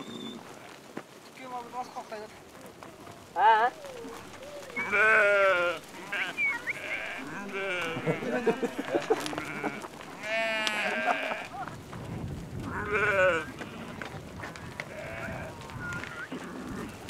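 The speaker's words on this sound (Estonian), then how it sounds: "Ta ajab nüüd lambad ette, hakka valima." Sheep bleat repeatedly, close and loud, as a herder drives the flock forward, with several overlapping calls and voices talking in between; later a steady rain-like patter fills the background.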